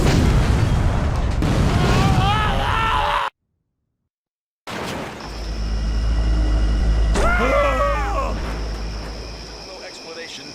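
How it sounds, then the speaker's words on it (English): An explosion in the video game Stubbs the Zombie, a loud, deep boom with crackling debris. It comes after a brief silence and mixes with game voices and music. "No explanation for the massive explosion that destroyed the Punchbowl police station"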